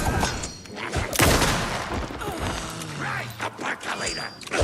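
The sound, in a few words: gunshots in the video game Alan Wake 2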